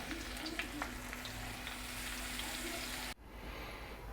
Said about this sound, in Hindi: और ये ना इसमें डाल देना है कुकिंग ऑयल में जो हमने पहले से गर्म करके रखा हुआ है।